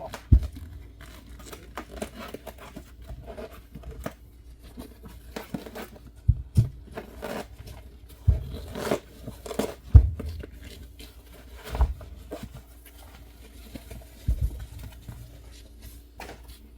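Old upholstery covers being cut off Lexus headrests, with soft, faint crinkling and tearing sounds that come in irregular bursts over a low background.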